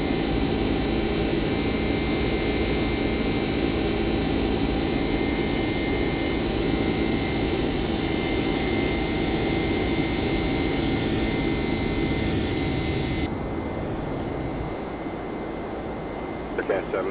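A simulated Boeing 767-300ER jet flies by in the X-Plane 11 flight simulator, giving a loud, steady engine roar with a high whine that drops away near the end.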